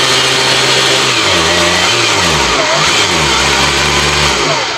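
A Greenworks TB201H 82V battery string trimmer running at maximum speed gives a loud, close motor whine whose pitch wavers and shifts continuously.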